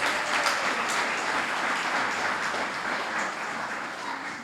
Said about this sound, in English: I believe we should give him a round of applause for this